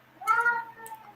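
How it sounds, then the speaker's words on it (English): A cat gives one clear, close meow, followed by a fainter second call a moment later, with no talk over it. "Sorry, that was my cat."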